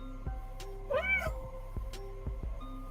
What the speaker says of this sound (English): That is a noisy cat.